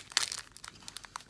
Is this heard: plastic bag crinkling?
yes